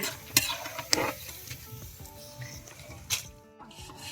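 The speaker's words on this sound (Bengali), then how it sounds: "প্রথমে পাপড়গুলো ভাজা হচ্ছে" Papad crackers fry in a pan of hot oil, giving a soft steady sizzle with sharp scraping and stirring clatters from the pan, no talking.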